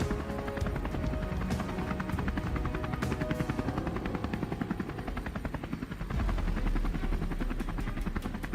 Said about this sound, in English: The helicopter gradually lowers over a vast field.